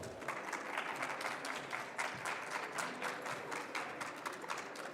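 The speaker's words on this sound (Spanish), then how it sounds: "Un aplauso, por favor." An audience claps at a nursing conference after a talk on medication prescribing is introduced, a dense patter of hands that holds steady with brief surges throughout.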